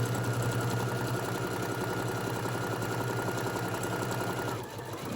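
A sewing machine stitches a summer tote bag in one steady, close, rapid mechanical hum that barely changes, then eases off at the very end.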